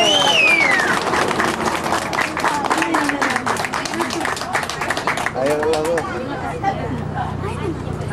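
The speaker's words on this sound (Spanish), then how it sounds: "Aplausos para ella." Guests at a birthday party clap loudly for a contest winner in a busy burst lasting several seconds, with voices and chatter mixed in before it thins out near the end.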